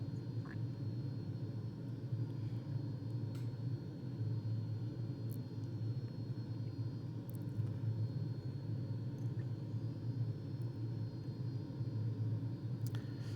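An airplane engine in a flight simulator game strains to accelerate past 200 knots at 21,000 rpm, a continuous droning rumble held steady and fairly loud, with a few faint clicks and no speech.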